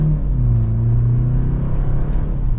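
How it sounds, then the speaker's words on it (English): A 2024 BMW 530i M Sport accelerates hard with extra power, a loud, steady engine drone and rumble climbing in pitch from the driver's seat, continuous for a few seconds with no talk. "Giving it some gas, I mean, we're getting up to speed to 60 super quickly."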